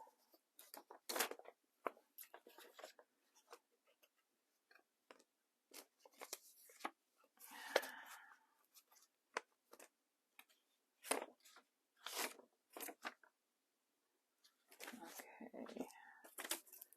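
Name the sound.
scissors cutting out paper for junk journal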